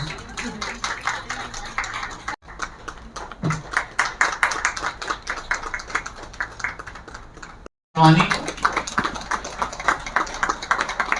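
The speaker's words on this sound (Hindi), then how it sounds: "तालियां बजाइए प्लीज" An audience applauds at an International Women's Day awards ceremony, with dense overlapping claps that run steadily and break off once before resuming, while a voice speaks over them.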